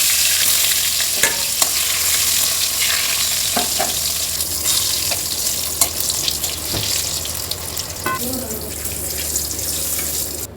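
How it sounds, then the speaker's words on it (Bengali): Pointed gourd (potol) slices frying in oil in a pan give a steady, close sizzle, with a few clinks and a brief splash of water partway through. "বাকিগুলো এইভাবে ভেজে নেব।"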